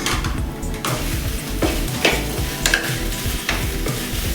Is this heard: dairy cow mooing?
no